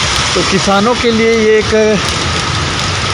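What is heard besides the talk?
heavy rain falling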